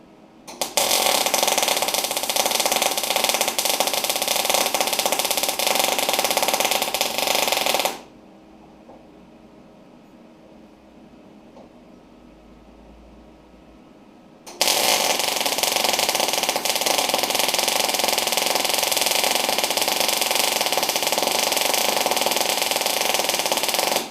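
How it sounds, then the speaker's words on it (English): A new wire-feed welder lays a bead with a loud, steady crackling buzz for about eight seconds, falls quiet for several seconds, then welds again with the same harsh crackle to the end. "It's welding quite nicely."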